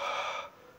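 Breathing through a jiu-jitsu mouthguard, a close, breathy exhale that fades out after about half a second.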